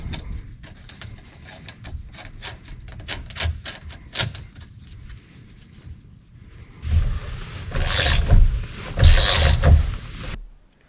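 Metallic clicking and ratcheting as a nut is refitted on a Can-Am Maverick X3 steering wheel, irregular close taps and clinks, then a louder burst of rattling tool noise near the end.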